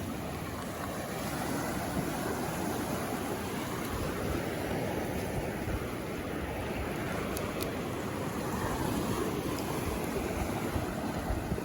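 Surf breaks and washes on a beach, a steady broadband rush with some wind over it. It is continuous at moderate level throughout, with no talk.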